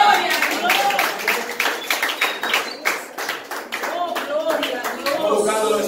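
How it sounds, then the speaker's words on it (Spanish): Church congregation claps at an evangelistic service, fairly close individual handclaps in an uneven rhythmic patter, with voices speaking over and between the claps. "Aplauda a Dios por ella"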